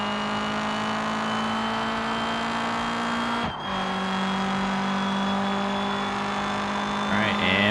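D-Series car speeding up in the video game BeamNG: a steady, loud engine drone rising in pitch, dipping briefly at a gear shift, then climbing again, with constant road and wind noise.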